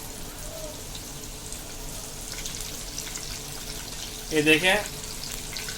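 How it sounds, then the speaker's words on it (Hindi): Semolina-coated bombil fish shallow-frying in a little oil makes a soft, steady sizzle, with a brief louder burst of spattering near the end and a short spoken word. "हम हल्का डिप तेल में फ्राई कर रहे हैं इसको।"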